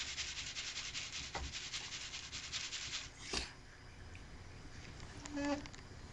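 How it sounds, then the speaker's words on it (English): Dry beans being sorted and rubbed by hand before cooking, a soft gritty rustling and scraping that runs steadily at first, then tapers to a few faint scattered rubs, quiet and close. "I'm cleaning out the beans now to make sure that the dry beans are actually clean"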